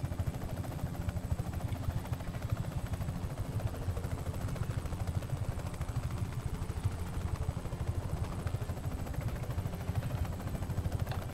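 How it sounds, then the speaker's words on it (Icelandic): A helicopter in the Just Cause 3 video game flies steadily, its engine and rotor producing a continuous loud chopping drone with a rapid beating rhythm throughout, with no talk over it. "Þyrluferðir eru mjög leiðinlegar."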